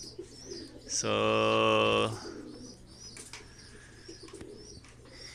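Racing pigeons in a loft give a loud, close, drawn-out coo lasting about a second, set among softer bird calls and faint wing flutters, with a brief spoken word over them.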